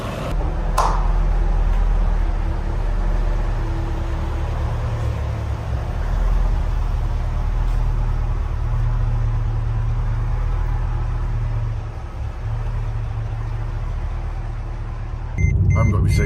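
A supercharged Mercedes E55 AMG drives gently on private land, its low engine rumble steady and near from inside the cabin, rising briefly near the end.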